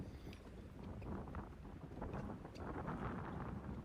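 Steady wind roars and buffets the microphone on an outdoor tennis court during a blustery amateur match, a continuous broadband rush with gusty swells and no voices.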